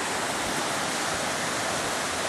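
Creek water rushing and splashing beside a campsite, a broad steady hiss that is close, loud and continuous, with no voices.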